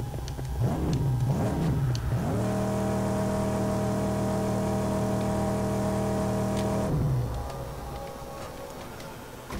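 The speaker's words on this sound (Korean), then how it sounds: "차소리 좋네" Car engine in the Mad Max action game roaring loudly, climbing through revs then holding a steady high-pitched drone before easing off near the end, alone without talk.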